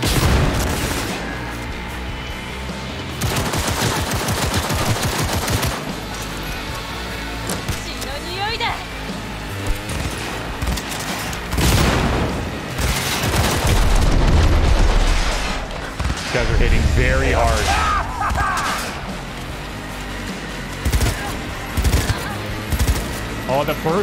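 Rapid bursts of gunfire from a futuristic first-person shooter in Cyberpunk 2077, loud and repeated volleys with booming impacts, mixed with game effects and intermittent talking over them.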